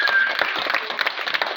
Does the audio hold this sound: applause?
yes